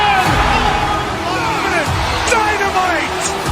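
Crowd cheering and babble from a basketball video game rise and fall in a steady wash behind excited commentary.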